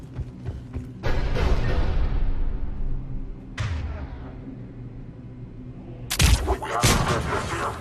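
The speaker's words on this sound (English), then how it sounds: "The cannon fire is clearing the way." Heavy Cerberus cannon artillery in a Mass Effect 3 battle booms out in big blasts near 1 s, 3.6 s and 6 s, each rolling into a long rumbling decay with mechanical creaks in between.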